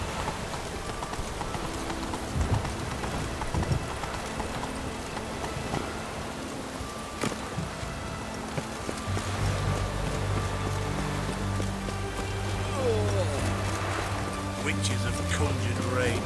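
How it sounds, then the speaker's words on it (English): Conjured rain in the video game The Witcher 3: Wild Hunt, a steady hiss of falling rain with rhythmic horse hoof clip-clops, and a low rumble building toward the end. "Witches have conjured rain."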